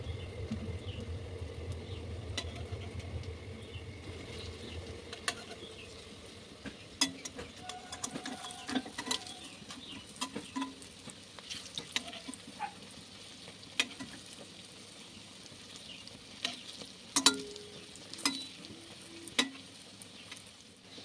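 Potato fritters (aloo bora) frying over a low flame, a soft, low crackle and sizzle of oil close by, punctuated by scattered clicks and light scrapes of a spatula turning and lifting the pieces.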